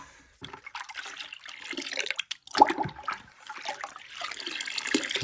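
Water and Rooh Afza syrup pour into a sharbat drink, a splashing, gurgling stream that starts and stops in uneven bursts, close and moderately loud, with no voices.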